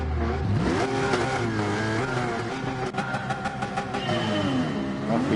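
Porsche Cayman engines in a Gran Turismo 7 Porsche Cup race, revving and shifting through gears with rising and falling whine, close and loud, several cars overlapping.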